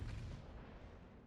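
A ship's gun salvo in the naval battle game World of Warships lands as a single faint, distant boom whose low rumble fades away over a second.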